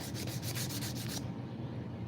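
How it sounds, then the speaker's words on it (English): Sandpaper rubbing along the grain of wood during knife making, steady strokes close by for about a second before the rasp stops and a low hum remains, with no talking. "Trying to be very directional, intentional in my sanding."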